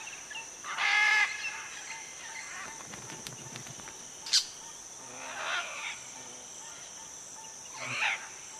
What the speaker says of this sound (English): A pair of crimson-fronted parakeets are setting up home next door to the macaws.